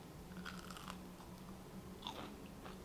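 Crunchy fried ravioli is bitten and chewed up close, with a few crisp crunches over a faint low hum, no talking.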